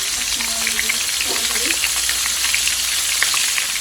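Onions, ginger and garlic sizzle and spit in a hot pan with cinnamon while the onions brown, a loud, dense crackle that runs unbroken from start to finish, with faint stirring clinks.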